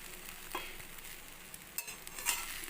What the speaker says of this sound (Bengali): এবারে ফ্রাইড রাইসটা করে নিলাম।